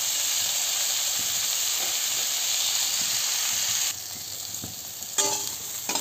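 Kakrol (spiny gourd) slices fry in oil with kalonji in a pan over low to medium heat, a steady close sizzle and hiss that drops in level partway through, with a few scrapes of stirring.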